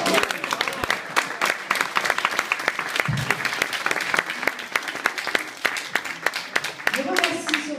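An audience in Marseille breaks into dense, sustained applause, with rapid overlapping claps close by throughout and a voice speaking briefly near the end.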